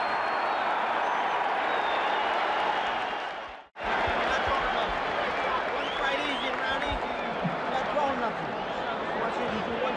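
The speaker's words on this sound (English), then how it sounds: "The crowd is really juiced up" A boxing arena crowd roars steadily between rounds of a Tyson v Holmes heavyweight fight, loud and continuous with a ringside commentator talking over it. The roar cuts out abruptly for a moment, then resumes at full strength.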